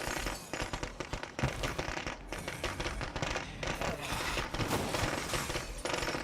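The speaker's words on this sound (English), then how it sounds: "the reason why I throw the firecrackers is because it will muffle the gunshots" Dense, continuous crackling and popping like a string of firecrackers going off in State of Decay 2, loud and busy throughout, mixed with game noise.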